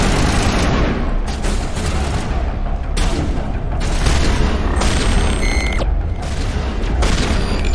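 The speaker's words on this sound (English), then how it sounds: "Lay down suppressive fire." Dense bursts of weapon fire and booming blasts from a Mass Effect firefight fill the whole stretch, loud and continuous with close, heavy impacts.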